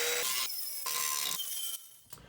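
Cutting into rusty Jeep frame metal yields a harsh, high-pitched grinding whine in short segments that shift in pitch, close and fairly loud.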